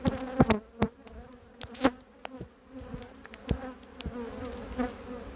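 Honeybee colony on hive frames during a spring inspection, a calm strong colony; a steady close buzzing hum runs throughout, broken by several sharp knocks and clicks of frames being handled.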